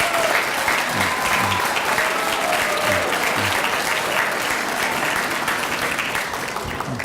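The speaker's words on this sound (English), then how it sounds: "Let's give them a nice round of applause." Audience at a middle school Veterans Day ceremony applauding the chorus, band and student speakers, a full, sustained round of clapping that stays loud and even throughout, with a few faint voices underneath.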